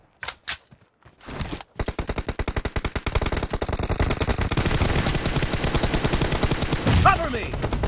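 Video game machine-gun fire: a few separate shots, then a long, rapid, evenly spaced automatic burst that grows louder and denser. It runs loud and close with no talk over it.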